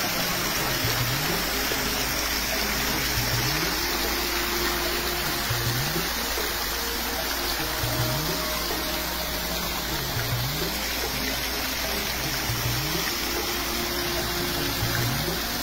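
Water gushing under pressure from an overflowing borewell, a steady, loud, continuous rushing roar throughout, with a faint rhythmic pump-like pulse underneath.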